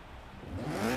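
Sunbeam rally build with stanced rims revs in the Forza Horizon 3 racing game, a short mid-pitched engine note swelling louder over about a second, heard alone with no talk.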